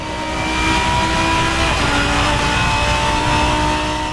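A GT3 race car in the Assetto Corsa driving game roars at high, sustained revs, a loud continuous engine drone with steady harmonic whine and no talking.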